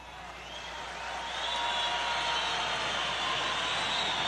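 Audience applause at a workers' congress political rally swells over the first second and a half into a dense, steady wash of clapping that fills the hall, with crowd voices mixed in.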